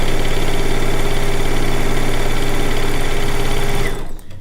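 A sewing machine stitches a log cabin quilt top with a loud, fast, steady mechanical whirring and rapid needle chatter that runs continuously, then stops abruptly near the end.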